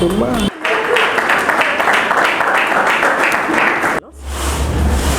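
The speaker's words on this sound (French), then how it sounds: "Est-ce que vous ne pouvez pas applaudir pour moi" An audience claps at a talk, a rhythmic, fairly loud run of hand claps in a regular beat that starts abruptly after a moment of speech and cuts off sharply near the end.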